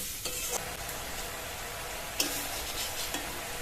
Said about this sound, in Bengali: মশলাটা তেল ছাড়া পর্যন্ত কষিয়ে নেব